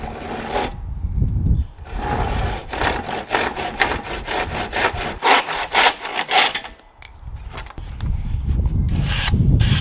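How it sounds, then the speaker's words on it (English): A hand saw cuts a mitre in a wooden skirting board, making close, loud rhythmic back-and-forth rasping strokes that pause briefly before resuming. "score along there with your saw, and then you cut straight down at an angle"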